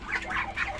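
Domestic ducks kept alongside backyard chickens give a few nasal quacks in quick succession, close and clear, with no voices.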